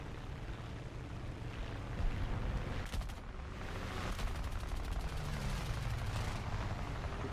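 Aircraft machine-gun fire in War Thunder, rapid bursts of rattling shots over a continuous engine roar, with a few sharper cracks standing out in the dense, loud battle noise.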